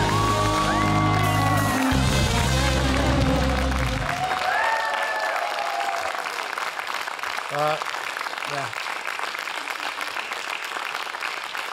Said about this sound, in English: you got such a big applause